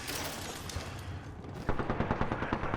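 Rapid automatic gunfire from a shooter video game played on a gaming PC, with a dense continuous burst that turns into sharp, evenly spaced loud shots near the end.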